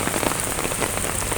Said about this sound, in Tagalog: At lumakas na naman ang ulan.